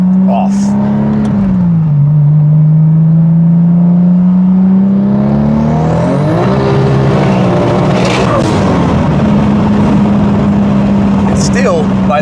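A 1000hp 2JZ-swapped 2002 Lexus IS 300 with traction control off accelerating hard, its loud droning engine rising in pitch through the gears as the tires spin, very close and continuous.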